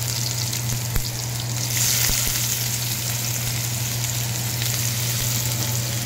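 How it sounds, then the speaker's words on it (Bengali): Chopped onion frying in hot oil in a kadai, a steady, even sizzle close up with a faint hum beneath and a couple of light clicks, no speech. "আমি ওই তেলের মধ্যে দিলাম কিছু পেঁয়াজ কুচি"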